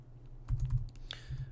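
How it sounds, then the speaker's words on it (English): Fingers type on a computer keyboard at a desk while someone enters commands in a shell, with a short burst of fairly close keystrokes after a brief pause. "I'm going to go silent for a little while I type this."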